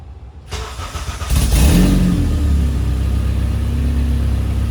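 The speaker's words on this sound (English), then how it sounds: "We complete the exhaust, so you guys can hear a little startup right now" A Honda Civic's engine, fitted with a new exhaust and large muffler, cranks and catches, then settles into a steady, deep idle with a low exhaust rumble that continues.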